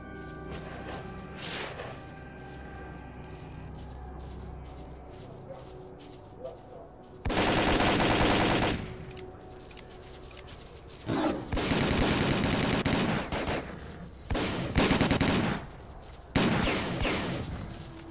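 Gunfire in the video game S.T.A.L.K.E.R.: Call of Pripyat, loud bursts of automatic rifle fire and single shots in clustered volleys after a quieter ambient stretch, no talk heard.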